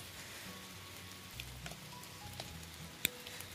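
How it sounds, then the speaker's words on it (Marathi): Light drizzle falls outdoors in rural Konkan farmland, a faint, steady patter of fine raindrops with no talking. "आता बघा बारीक बारीक रिमझिम पाऊस चालू झालेला"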